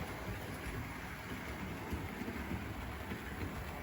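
Hornby Railroad B17 model locomotive running on an East Coast Express train set track, a steady close rumbling whir with a faint high whine that stays even throughout.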